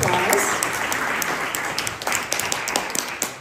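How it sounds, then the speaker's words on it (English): An audience at an arts series event applauds steadily, a dense wash of clapping that holds throughout and thins slightly toward the end with a few sharper individual claps standing out. "So let's give all three of them a huge round of applause."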